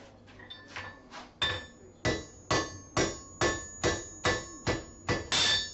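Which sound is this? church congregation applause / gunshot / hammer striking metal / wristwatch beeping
hammer striking metal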